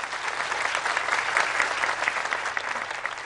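An audience at an agricultural achievements presentation applauding, a dense, steady wash of many hands clapping that holds evenly throughout at close range, with no talking over it.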